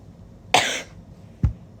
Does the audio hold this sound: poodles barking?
no